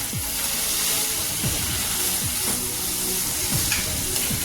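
Tomatoes fry in a pan for a snake gourd curry, giving a continuous close sizzle with occasional spoon strokes scraping through, steady and without speech.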